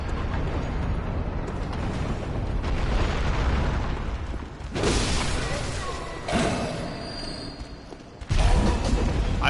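A cannon blast in Bloodborne, with heavy booming bursts and thuds rising out of a dense, rumbling game mix while a voice talks over it.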